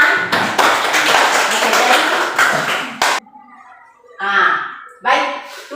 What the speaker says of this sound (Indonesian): Tepuk tangan untuk teman.